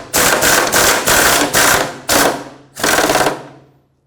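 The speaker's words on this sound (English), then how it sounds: "I'm just going to grab my air impact and make sure they're bottomed out nice and snug." Air impact wrench tightening the fuel tank bolts on a 2008-2010 Ford F-450 Super Duty, five loud close rattling bursts of hammering separated by short pauses, ending in a fading tail.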